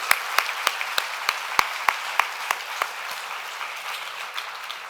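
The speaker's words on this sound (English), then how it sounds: "give another round of applause to every speaker that came on stage" A conference audience at an animal rights plenary gives sustained applause for the stage speakers, a broad wash of clapping with a few sharp, evenly spaced louder claps standing out near the front.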